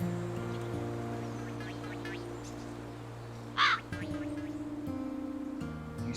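A crow in the video game Wytchwood gives one short, harsh caw, faint and brief over steady game music and ambience.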